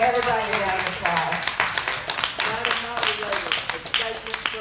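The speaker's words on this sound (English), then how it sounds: "Round of applause." Audience applause at a county commission candidates forum, a steady patter of clapping from a roomful of people lasting several seconds, with voices mixed in beneath it.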